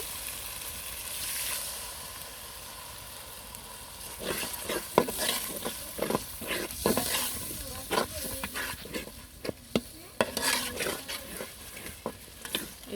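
Onions fried with spices in a pan, a quiet sizzle at first, then a rhythmic series of sharp scraping and stirring strokes over steady frying, close by.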